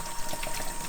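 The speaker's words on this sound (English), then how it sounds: "I just like to run the water through the nozzles, through the pipes." Water runs through the nozzles and pipes of a Siemens coffee machine during cleaning, a steady soft hiss and trickle lasting about a second with no voices.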